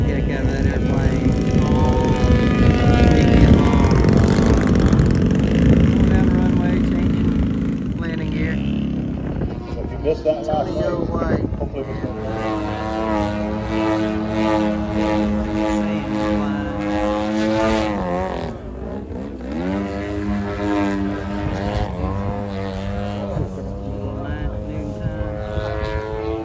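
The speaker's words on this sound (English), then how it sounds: "That's a smoker plane right there." A smoke-trailing airshow propeller plane drones loudly overhead, its pitch sliding as it passes close by and then away, with people talking beneath the engine noise.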